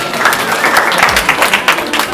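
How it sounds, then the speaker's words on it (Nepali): Audience applause at a meeting of Salyani artists held at the New Bus Park in Kathmandu, Nepal: steady, dense clapping from a crowd sustained across the whole stretch, moderately loud and without a clear pause. "सबैजना कृपया ताली बजाउनु होला"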